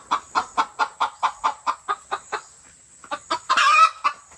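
A chicken or rooster clucks in a steady run of about a dozen close, evenly spaced calls, pauses briefly, then resumes with a few more clucks and a short, louder crowing burst near the end.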